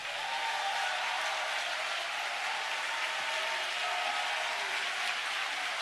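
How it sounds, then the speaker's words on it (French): A church congregation applauds and cheers for Jesus, a steady, dense wash of clapping that holds evenly for several seconds with no voices standing out. "Est-ce qu'on peut acclamer fortement Jésus?"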